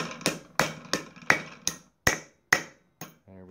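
Brass hammer striking a piece of spring steel clamped in a Wilton 450 vise: eight sharp metallic blows at an even rhythm, each ringing briefly before the next, close and clear, followed by a short low ringing tone.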